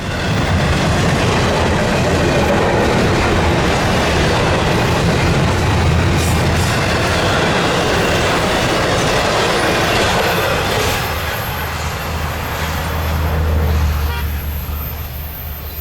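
An SD-40 freight train on the Florida East Coast Railway rumbles past close by and loud, with a continuous roar, wheel clatter and a faint high squeal, easing slightly near the end.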